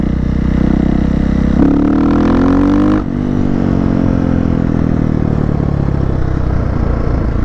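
A Husqvarna FE501 motorcycle engine drones steadily while riding, then drops through a gear change near the three-second mark, with the rising engine pitch cut off and settling lower. The engine is loud and close, with no talking.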